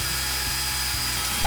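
A power drill held by a hand clamp spins a piece of wood on a homemade lathe, making a close, steady motor whine with a rhythmic wobble that repeats several times a second.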